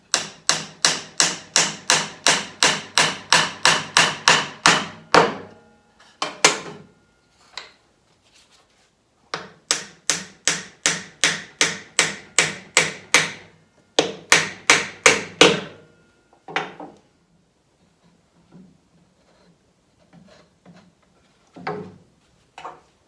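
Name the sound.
hammering a dovetail down into a wooden table piece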